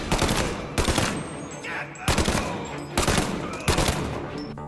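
Gunfire in a mafia video game, several loud bursts of rapid automatic shots in quick succession with short gaps between volleys, close and dominant.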